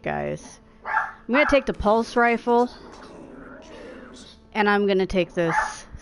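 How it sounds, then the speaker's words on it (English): A pet dog barks under close talk, with a short sharp burst of yips early on and another cluster of barks later. "And once again, I do apologize for my dog barking."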